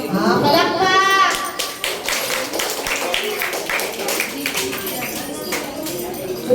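Audience clapping at a school recognition day program, a dense, steady patter of many hands that fills the room and carries on throughout, with some voices and a child's speech mixed in.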